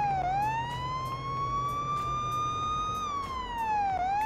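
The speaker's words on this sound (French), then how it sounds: "Vous inquiétez pas, la sirène va s'arrêter." Wailing police car siren from the Police Simulator: Patrol Officer video game, a loud, steady electronic tone rising and falling slowly over a continuous low engine rumble, with no talk.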